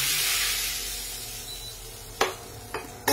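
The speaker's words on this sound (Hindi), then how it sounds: "नॉर्मल जीरा और लाल मिर्च का मैंने इस पे तड़का दिया है" Cumin seeds and red chili tempering in hot ghee poured over boiled dal, giving a steady close sizzle with a few sharp bursts near the end.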